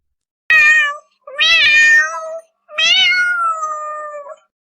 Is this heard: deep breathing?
no